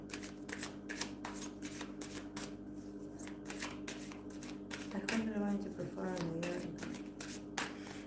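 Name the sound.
tarot cards being shuffled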